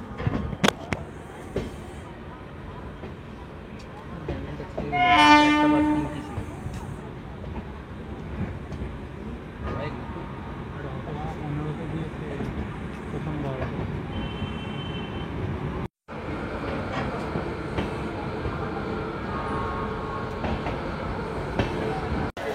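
Raxaul Howrah Express LHB train running in to Howrah about 55 minutes late: a steady moderate rolling rumble with a brief horn-like tonal burst early on, heard under scattered voices.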